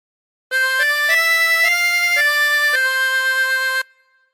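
A phrase of the Star Spangled Banner played on a chromatic harmonica, heard as a clear, steady run of about seven sustained reedy notes lasting roughly three seconds, alone with no voices.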